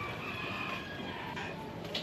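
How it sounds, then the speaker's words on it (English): A chicken crowing in a crowded Tondo, Manila slum neighbourhood in the Philippines, heard briefly over steady loud street noise and a constant background hum. "The chicken."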